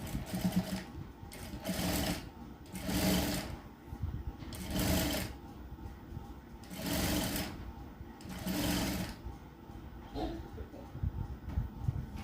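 A sewing machine stitches a neck piece onto a blouse in repeated bursts of close, loud whirring separated by brief pauses, about six runs in all.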